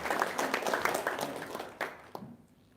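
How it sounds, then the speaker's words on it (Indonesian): Audience clapping at a religious gathering, a brief burst of hands that thins out and fades to a few scattered claps and near quiet by the end. "Tepuk tangan dong."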